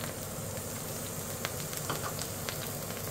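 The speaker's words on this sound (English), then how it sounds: "I'm going to fry these off for a little bit." Onions fry in a pan after potatoes are taken out, a steady, close crackling sizzle with scattered pops and no talking.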